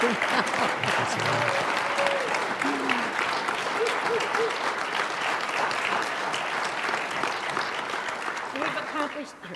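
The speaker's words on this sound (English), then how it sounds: "let's give these two gentlemen a round of applause" Congregation members at an annual meeting applaud two men, a full steady roar of many hands clapping that carries on for nearly ten seconds, with a few voices calling out early and the clapping tapering slightly at the end.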